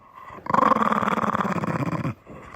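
A dog gives one sustained, close, rumbling growl lasting under two seconds, with a pulsing rhythm and quiet before and after.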